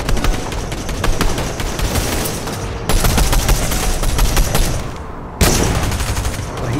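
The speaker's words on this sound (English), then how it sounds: "Who's firing at us?" Dense, continuous automatic gunfire from a squad battle in the video game Fortnite fills the whole stretch, loud and unbroken apart from a brief dip near the end.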